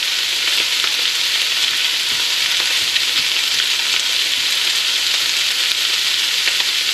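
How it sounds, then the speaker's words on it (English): Meat and vegetables sizzle steadily with garlic in a pan while a Bolognese sauce is being made; the frying hiss is loud and close, continuous and even throughout. "we've got the meat, we've got the veg cooking nicely, with the garlic, and we've got the meat going"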